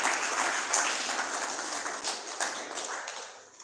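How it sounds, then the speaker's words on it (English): A conference audience applauds, a dense sustained wash of many hands clapping that starts strong and gradually tapers off over a few seconds, heard from within a hall without speech. "I want you to give yourselves a round of applause for learning these"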